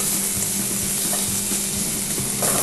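Vegetables for borscht fry in a pan, giving a constant close sizzle and crackle with light stirring scrapes underneath, steady and fairly loud with no talking.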